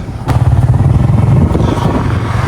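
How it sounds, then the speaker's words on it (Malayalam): Close, loud motorcycle engine running steadily with a low throbbing rumble as the bike rides along a road in Lakshadweep, no voices. "നമ്മള് ലക്ഷദ്വീപിലൂടെ ചെറിയൊരു ബൈക്ക് റൈഡ് പോവുകയാണ്"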